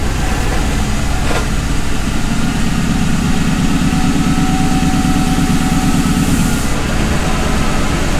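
A Ford Crown Victoria with a 5-speed manual transmission runs at a steady low engine rumble, its pitch rising and falling slightly as the clutch goes in and gears change, with no talk over it.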